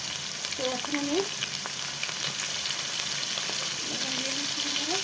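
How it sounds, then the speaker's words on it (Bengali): Small shrimp fry in hot oil in a wok, giving a continuous close sizzle with brief voice-like sounds over it at the start and end. "বন্ধুরা কড়াইতে তেল দিয়ে আমি চিংড়ি মাছটা দিয়ে দিলাম।"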